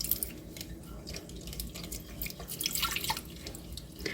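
Warm water trickles and drips into a bowl of yeast for dough, a soft, continuous pouring with small splashes, fairly quiet and heard alone without talk.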